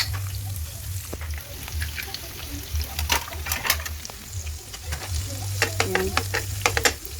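Beef and minced garlic sizzling and frying in a pan while being stirred, a steady close sizzle with scraping and clicking stirring strokes, and a person speaking briefly.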